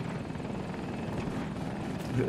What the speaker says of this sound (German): Heli jagt uns.